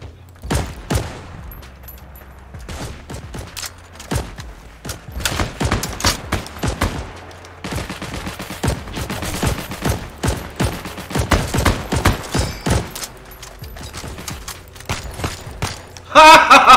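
Gunfire in the WWII shooter Heroes & Generals: scattered single shots and short bursts crack close by throughout, loud and irregular, with a heavier burst at the very end and occasional talk underneath.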